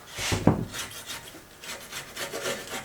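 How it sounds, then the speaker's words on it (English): A razor scraper is dragged across a table saw fence to lift old adhesive, giving one loud, close scrape followed by softer rasping strokes. "I got a razor scraper here."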